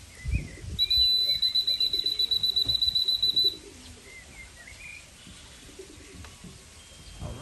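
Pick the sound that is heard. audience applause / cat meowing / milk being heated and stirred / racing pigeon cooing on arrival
racing pigeon cooing on arrival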